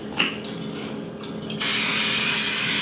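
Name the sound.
spraying cooking spray into baking pan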